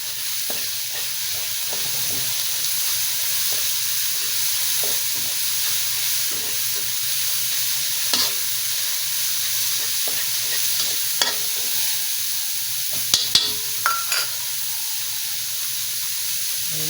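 Onions frying for chicken pastil hiss and sizzle steadily in a pan, with a few faint clinks of a utensil stirring near the end.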